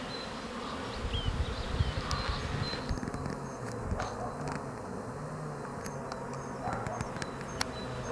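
Honeybees buzzing around a hive close by, a continuous droning hum with individual insects passing near, over outdoor background noise.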